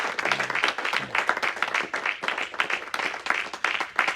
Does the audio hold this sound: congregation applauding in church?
yes